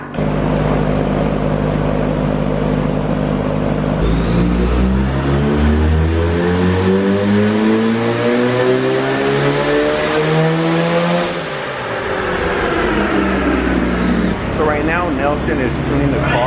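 A Mazda RX-7 rotary engine, fitted with a new fuel system and run without its turbo charge pipe, revs hard on a dyno: it idles, then climbs in a long rising sweep, drops off, and blips again, loud and close.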